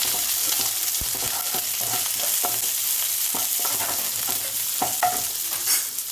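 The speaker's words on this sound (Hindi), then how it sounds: "थोड़ा सा हिला देते हैं" Chicken Manchurian with onion frying in a pan, stirred with repeated scraping and knocking strokes over a continuous close sizzle, no talking.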